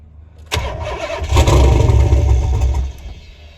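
A turbocharged LS V8 swapped into an SN95 Mustang cranks briefly, catches and fires into a loud, rough rumble that swells, holds for over a second, then drops back close to the microphone.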